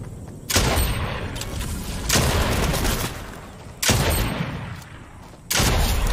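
Bursts of rapid gunfire in the video game Fortnite, several loud sustained volleys separated by brief lulls, dense and close with no talking.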